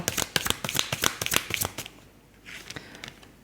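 Tarot cards are shuffled in a quick run of crisp, close riffling snaps, followed by softer slides and taps as the cards are laid out.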